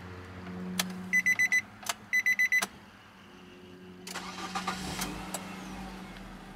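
A 2012 Nissan Latio hatchback with keyless start chimes in two quick beeping bursts, then its engine cranks and fires into a steady idle, heard up close with no talking.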